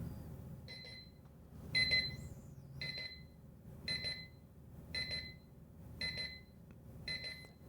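An LED countdown clock's alarm beeps in short, bright clusters repeating about once per second, loud and close against a quiet room.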